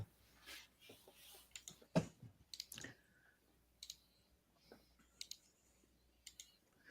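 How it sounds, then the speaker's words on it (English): Quiet, scattered clicks and small ticking taps come at irregular intervals, close and faint against a near-silent room, with soft rustles between them and no talking. "Who's clicking?"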